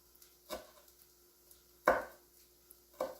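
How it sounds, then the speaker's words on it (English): A knife chops leaves into thin chiffonade strips on a cutting board for a rustic tomato tart, giving three sharp, close knocks spaced about a second apart in a quiet room. "make a chiffonade out of them. That's also a lovely thing to do, so I'll do that with some of it. That's to take it and cut it into tiny, tiny, tiny strips."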